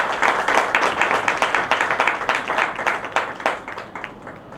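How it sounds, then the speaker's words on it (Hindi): Audience applause welcomes a guest at a Hindi kavi sammelan (poetry gathering), with many hands clapping in a dense, steady patter that thins slightly toward the end. "जोरदार तालियों से स्वागत"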